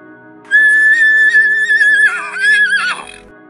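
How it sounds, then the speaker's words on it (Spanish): A horse gives one long, loud whinny lasting about two and a half seconds. It holds a steady pitch, then breaks into wavering, quivering tones at the end, with no other sound around it. "El relincho es un sonido más fuerte, lo emiten para contactar en la distancia con otros caballos"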